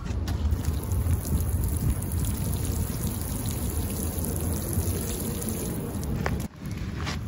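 Water is poured over a garden bed planted with winter rye, producing a dense, steady splashing hiss close by that continues without a break and cuts out briefly near the end.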